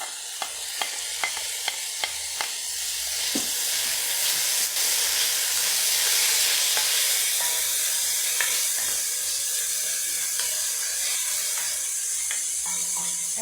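Peppers hit a hot pan with mince, a few sharp clicks giving way to a loud, swelling sizzle and hiss that stays steady and close, with occasional stirring scrapes underneath.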